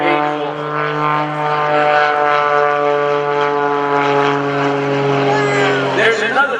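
An aerobatic propeller airplane flies an airshow maneuver, its engine droning loud and steady with a strong harmonic whine that shifts slightly in pitch. Someone talks over it throughout.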